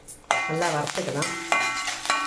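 Tempering spices, asafoetida, curry leaves and dried red chillies, crackle and sizzle in a pan while a spoon scrapes and stirs in several distinct close strokes.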